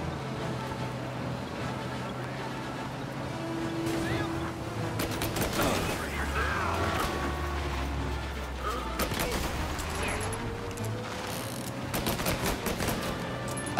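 Rapid gunfire strikes the player during a tense drive in Mafia: Definitive Edition, with bursts of shots and impacts over engine rumble and game sound, while a voice speaks over parts of it.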